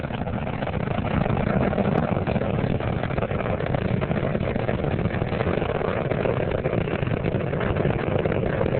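Space Shuttle Columbia's three main engines roar steadily through a launch, a dense, unbroken rumble that stays loud and even throughout, with no voices over it.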